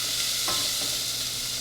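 A pot of tomato basil soup is stirred over the heat: a continuous soft hiss with a single short scrape of the spoon, heard alone and up close.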